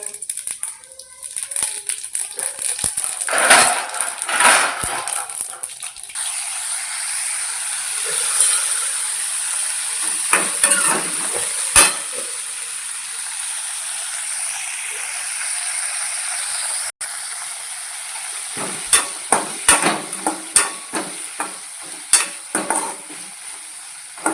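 Mustard seeds and cumin crackle and sizzle in hot oil in a home kitchen, with a steady frying hiss broken by bursts of sharp popping and occasional stirring.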